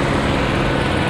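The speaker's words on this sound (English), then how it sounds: "Will was not thinking of this police helicopter." A police helicopter flies nearby, its steady rotor and engine roar filling the whole short stretch as a loud, unbroken wash of noise, with no talking.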